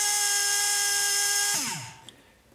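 Blinky brushless RC motor with a 45 end bell spins at high RPM, giving a loud, steady high-pitched whine that abruptly spins down into a falling pitch and fades out, with no talk.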